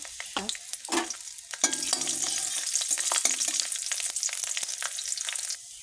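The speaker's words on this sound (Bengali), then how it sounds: "শুকনো লঙ্কা রসুন হচ্ছে কালো জিরে আর জিরে এগুলোকে দিয়ে ভেজে একদম তুলে নেব" Dried red chillies, garlic, nigella and cumin sizzle in hot oil, with a steady close crackle and clinks of a spoon stirring the pan.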